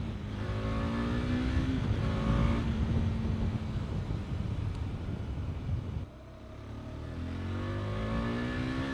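A motorcycle engine drones steadily and close while riding, with rising harmonic whine as it accelerates through the gears, a brief dip near the end, then building again with no talking.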